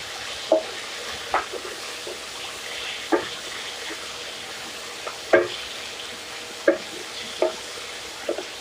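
Potato and green bean curry cooks in a covered pan over a low gas flame with a soft, steady sizzle, broken by occasional utensil scrapes and clinks at irregular intervals.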